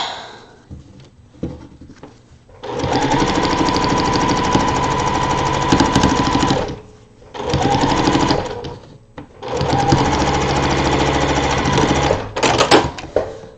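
A sewing machine stitches fabric pieces together for a partial seam, running in long steady bursts with short pauses between, loud and close with no talking.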